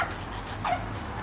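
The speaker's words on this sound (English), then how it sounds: "The little yappy barky you're hearing is my neighbor's little Pomeranian." A small Pomeranian yaps from a neighboring yard outdoors, a couple of sharp, high yips and whiny barks over a steady background hum, moderately close.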